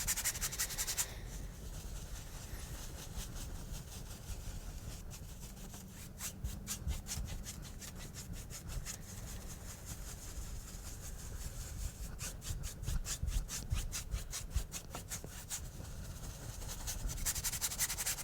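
Brush scrubbing thin acrylic paint onto canvas while painting a tree, a steady dry rubbing and scraping texture with quick rhythmic strokes running throughout, close and fairly quiet.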